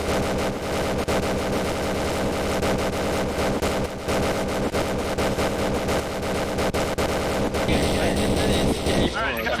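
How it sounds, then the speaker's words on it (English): Rapid, dense minigun fire in a Minecraft Clone Wars battle, a continuous loud rattling barrage that runs the whole stretch and thins slightly at the end. "each wielding a minigun"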